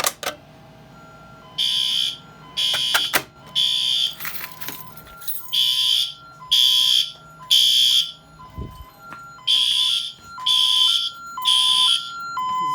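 A newly installed fire alarm system sounds after a pull station is pulled: loud, close electronic alarm tones in repeated rhythmic bursts, with a few short clicks and clatter near the start.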